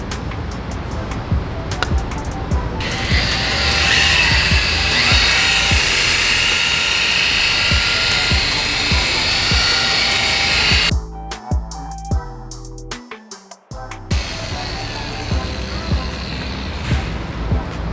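A rotary polisher fitted with a 3-inch Rupes coarse wool pad runs steadily on clear coat while fixing a run, a loud continuous whine that drops out briefly near the end before starting up again.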